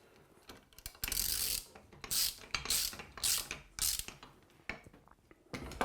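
A ratchet clicks in short bursts while studs are tightened on a Forster Co-Ax reloading press, with several loud, rasping runs of ratcheting separated by brief pauses, close up.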